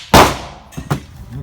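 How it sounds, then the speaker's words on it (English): A rifle shot at a target on a Boy Scout riflery range: one sharp, loud crack that decays quickly, followed by two softer knocks like a bolt being worked. "it's your last shot, and then we'll bring the target in"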